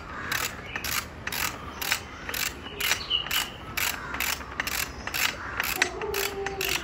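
Bolts on a convertible tandem bicycle frame being snugged with a ratchet wrench, giving a steady run of close, rapid ratcheting clicks in repeated bursts throughout, with no talking.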